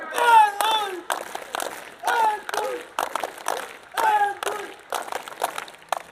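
Cub scouts at a scout carnival morning session perform a rhythmic group clap, bursts of synchronized claps repeating every second or so, mixed with children's shouted chanting close by.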